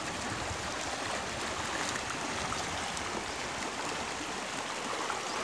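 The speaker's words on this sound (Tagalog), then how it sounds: "Malakas din ang current ng water." A river runs with a strong current, giving a dense, steady rushing roar that stays close and even throughout, with no voices over it.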